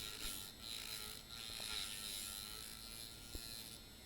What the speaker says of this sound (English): I'm using the Dremel for smoothing the stem edge.